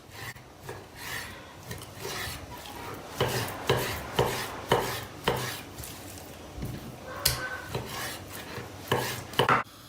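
A knife repeatedly strikes a cutting board at an uneven pace, cutting chicken into cubes, with scraping and rubbing between the chops, close and fairly quiet.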